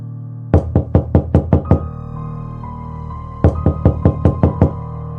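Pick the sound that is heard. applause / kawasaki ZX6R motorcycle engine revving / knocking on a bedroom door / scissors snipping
knocking on a bedroom door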